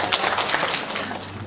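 Audience at a Korean-Australian elderly immigrants' gathering applauding in thanks, a steady wash of many hands clapping together at moderate loudness, with no distinct speech over it.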